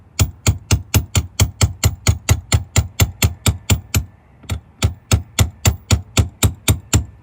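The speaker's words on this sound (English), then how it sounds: "That focuses the impact of the hammer to drive down the panel" Steady, evenly spaced hammer blows ring out on a metal panel, driving down a high spot; about two dozen sharp, loud strikes in a regular rhythm with one brief pause midway.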